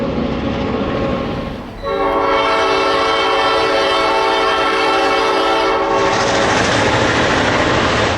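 A diesel freight train's horn blares steadily for several seconds over the heavy rumble of passing rail cars, close and loud, hauled eastbound from Roseville by an ABBA set of F7 locomotives.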